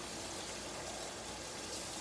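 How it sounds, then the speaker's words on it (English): Water being added to a pan of cooking parsnip and onions, a faint, steady hiss of pouring liquid that holds evenly for a couple of seconds with no talk. "Into that, I'm going to add a little bit of water,"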